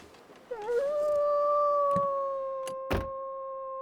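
Wolves howl in The Long Dark, a long, steady, rising-then-held wail that carries over the snowy wilderness, with a few soft thumps and footsteps around it and no talking.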